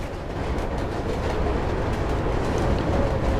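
Steady rumbling of a moving train in the video game Mirror's Edge, a continuous loud low-heavy roar with faint rhythmic clatter and no talk.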